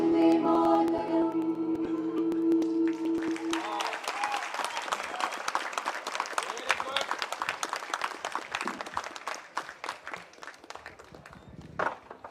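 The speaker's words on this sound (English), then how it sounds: "I think they deserve another round of applause." A concert audience bursts into applause after a Vande Mataram performance at a Bengaluru event, sustained dense clapping from a large crowd rising as the sung final note fades and tapering near the end.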